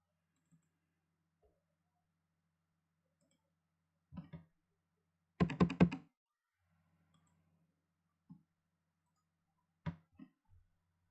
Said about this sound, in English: So now I can start typing stuff in.